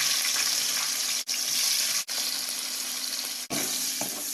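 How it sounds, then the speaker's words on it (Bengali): Prawns fry in hot oil in a pan with a bright, steady sizzle, broken by three short sudden gaps, and no one speaking. "তেল দিয়ে এরপর সিঙ্গুর মাছটা বাজছিলাম কই সিঙ্গুর মাছটা বাজো টাগারি গরম হয়েছে দিয়ে দাও"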